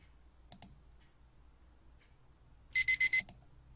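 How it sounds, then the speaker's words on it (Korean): An alarm clock rings in a video game, a short burst of four rapid, bright electronic beeps near the end that follows a few quiet clicks over a faint low hum. "알람 소리에 잠이 깼다."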